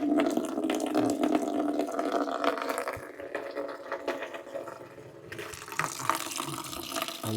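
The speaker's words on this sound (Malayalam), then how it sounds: "അവിടുന്ന് വെള്ളം പാരി ഒഴിക്കുകയാണ്" A continuous stream of water splashes and gurgles, briefly easing before pouring strongly again, close by with no talking.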